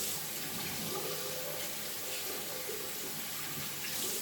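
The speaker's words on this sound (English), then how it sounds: "we're going to pour water directly into the middle of this brush using the sink." Hot water runs from a bathroom sink tap into a shaving brush, a close, steady splashing rush that holds even and continuous, with no talking.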